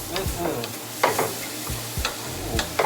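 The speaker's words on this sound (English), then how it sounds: "I'm going to stir this up." Shrimp and cauliflower rice sizzle steadily in a hot pan while a utensil stirs and scrapes through it, giving several distinct scraping strokes over the constant frying hiss, close and moderately loud.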